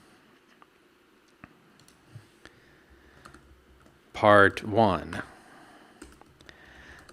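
Light, scattered keystrokes on a computer keyboard sound quietly and sparsely, interrupted midway by a short burst of speech.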